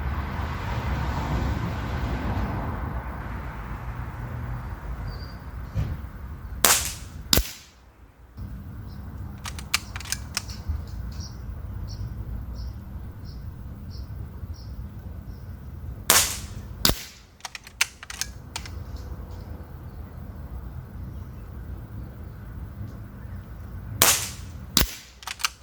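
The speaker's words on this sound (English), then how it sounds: "we're going to shoot 5 shots at each target" A serviced Webley Raider 10 5mm air rifle with a new O-ring fires JSB pellets at 45 yards outdoors: a handful of sharp, snappy cracks spread out over time, with soft clicks and a low background rumble between them.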